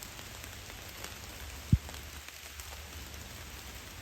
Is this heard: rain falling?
yes